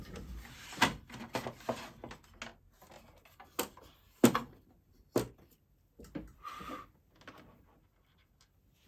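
Screws being refitted into metal panelling: a run of sharp clicks, taps and brief scraping knocks at irregular intervals, close and fairly loud, with short quiet gaps between them and a final stretch of near silence.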